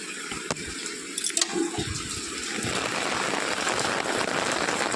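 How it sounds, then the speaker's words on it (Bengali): Rainwater leaking inside a house during heavy rain, a steady wash of pattering and splashing water that thickens after the first seconds, with a few sharper drips and knocks early on. "ঘরে জল পড়ছে বলছে, কি কোথায় জল পড়ছে।"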